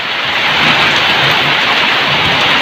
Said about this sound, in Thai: เราฝนตกขนาดนี้